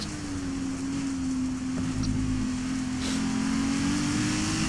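Ginetta GT4 race car in the Project Cars racing game, a steady sustained engine drone holding a constant pitch while cornering at speed, moderately loud and continuous with no talk.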